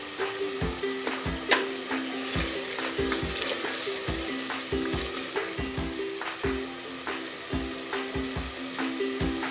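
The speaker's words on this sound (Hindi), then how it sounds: "अब मैं इसमें डालूंगी तकरीबन 1 टेबल स्पून इसमें साबुत ज़ीरा" Whole cumin seeds sizzle loudly in frying masala for urad dal, a dense steady crackle with stirring scrapes at a regular rhythm, close and alone with no talk.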